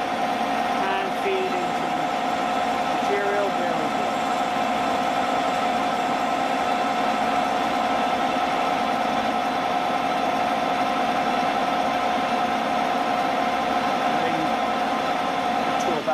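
A lathe turning a piston runs with a steady, mid-pitched motor drone and faint vibration that holds at a constant level throughout, close and continuous without breaks.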